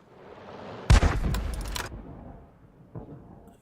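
An M44 self-propelled artillery gun fires in a video game, a sharp loud blast followed by rumbling crackle that fades within a second, then a fainter thump later.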